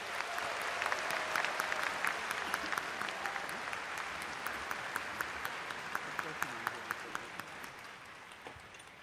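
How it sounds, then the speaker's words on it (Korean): Big, sustained applause from a large ceremony crowd at the 80th Korean Liberation Day celebration, thanking the performers: dense clapping with sharp individual claps popping out, easing slightly toward the end. "소중한 공연 만들어주신 모든 출연진분들께 다시 한번 큰 박수를 부탁드립니다."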